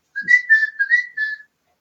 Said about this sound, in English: I can usually get to come to me if I whistle.